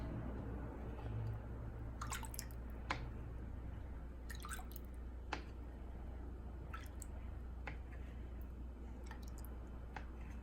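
Juice drains off shrimp aguachiles, heard as quiet scattered drips and wet squishing over a low steady background hum.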